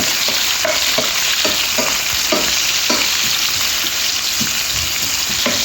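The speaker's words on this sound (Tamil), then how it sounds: "இப்போ கருவேப்பில்லை நல்லா வதக்கும் நல்லா வதங்கட்டும்" Curry leaves sauté in a hot oiled pan with cumin while making a snake gourd and bitter gourd poriyal, giving a steady close sizzle broken by regular scraping stirs.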